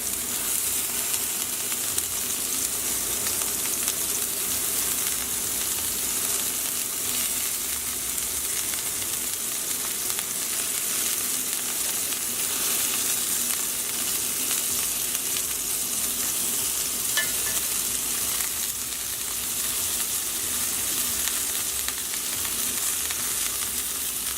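Turkey meatballs fry in a pan on medium-high heat, giving a steady loud sizzle and crackle throughout, with faint scrapes and shifts as they are turned over.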